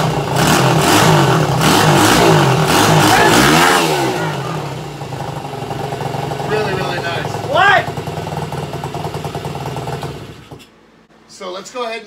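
A Tao Tao DBX1 140cc dirt bike engine runs loud and close, revving up and settling into a buzzing idle, then cutting out near the end, with people talking over it.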